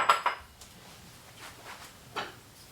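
A pan handled on a home kitchen stove gives a quick cluster of metallic clinks up close, then a quiet stretch and one more soft knock near the end.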